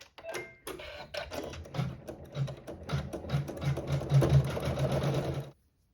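A sewing machine stitches decorative detail into the corner of a quilt block, a steady rapid mechanical chatter running for about five seconds, close and continuous before stopping abruptly.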